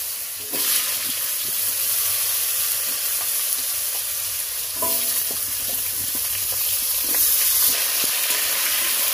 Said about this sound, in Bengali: এবার চলো আলুগুলো ভেজে নিচ্ছি